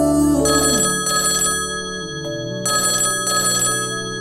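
A telephone rings repeatedly in clear bursts with short pauses between them, loud and close, a steady electronic ringtone with no voices over it.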